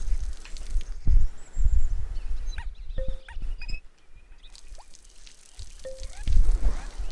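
Water splashes onto plants in the Viva Pinata garden game, in short bursts of dripping and pouring with soft bubbly pops and gaps of quiet between them, close and with no talk.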